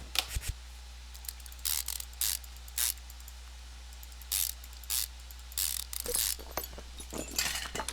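Metallic ratcheting and clicking in Car Mechanic Simulator 2015 as a fresh brake caliper and pad go on, sounding as sharp, separate bursts of wrench clicks spread across the span over a low steady hum, with no talking.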